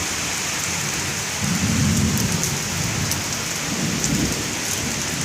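A heavy nighttime downpour roars constantly while two low thunder rumbles roll in, one early and a softer one later, with no one talking.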